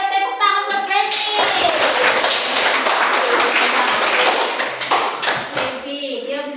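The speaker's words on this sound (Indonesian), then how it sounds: "Ayo tepuk tangan buat Feby." A group claps for a child, a burst of quick, dense hand clapping that swells within a second, holds loud for about four seconds and then fades out, with voices speaking before and after.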